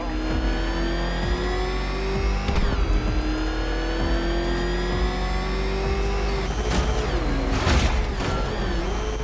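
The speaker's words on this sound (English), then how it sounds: "Can that ramshackle motor handle this?" A car engine drives and revs steadily in the video game Batman: Arkham Knight, a loud continuous motor drone with gear shifts, rising pitch and brief tire squeals.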